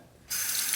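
A straight razor is rinsed under a running tap mid-shave, a sudden loud, steady rush of water starting after a brief quiet moment and continuing to the end.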